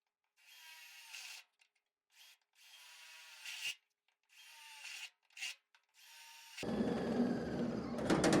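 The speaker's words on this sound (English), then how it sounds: "and then drill through." A step drill bit bores through spot welds on a car's inner fender, heard as several close, whining bursts of the drill that start and stop, then a harsher grinding stretch at the end.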